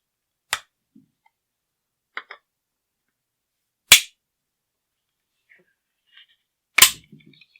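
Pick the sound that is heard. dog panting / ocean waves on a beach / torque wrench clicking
torque wrench clicking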